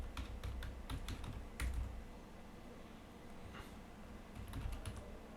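Typing on a computer keyboard while configuring a Juniper SRX firewall, bursts of quick key clicks with short pauses between, fairly faint and close.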